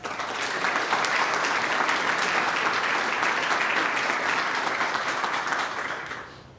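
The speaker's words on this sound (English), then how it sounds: "Let's give a round of applause." A full audience applauds steadily at a Demo Day event, a dense, even wash of clapping that holds for about six seconds before tapering off.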